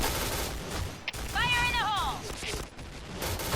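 Dense gunfire from an SC-2010 Silencer Tactical gun in the Point Blank video game, continuous rapid shots and game effects with talk over them.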